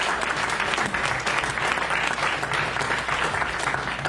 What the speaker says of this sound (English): Come on, give a hand clap to the King of Kings and Lord of Lords.